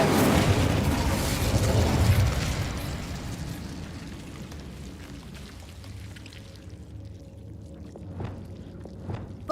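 An Incendio fire spell cast in Hogwarts Legacy: a loud, roaring burst of flame that swells over the first few seconds, then fades into a softer crackling tail with a few faint pops, heard alone.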